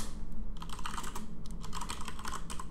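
Fast, steady typing on a computer keyboard while Python code is entered, a close, dense run of key clacks with a brief pause partway through and no talking.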